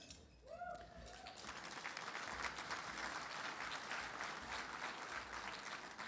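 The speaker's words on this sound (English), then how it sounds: "That is absolutely worthy of applause." Steady applause from a gala fundraising audience, filling the space at an even level after a brief tonal sound at the start.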